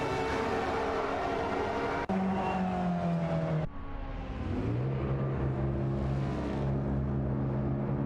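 Nissan GTP ZX Turbo and Porsche 962C race cars battle in a racing video game, with loud, continuous engine drone whose pitch drops and climbs between gear shifts and passes.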